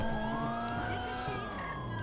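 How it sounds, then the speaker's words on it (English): A police car siren in a video game wails in a continuous rising and falling tone, loud and close over engine rumble, with no speech. "I stole a police car, too, but I couldn't figure out how to turn off the siren"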